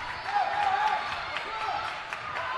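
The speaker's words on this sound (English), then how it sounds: "You can tell already the crowd in the background ready for this one" Steady crowd murmur fills a gymnasium at a high school girls' basketball game, Forrest against Cornersville, with a brief squeaky tone early on and a constant, moderately loud background wash.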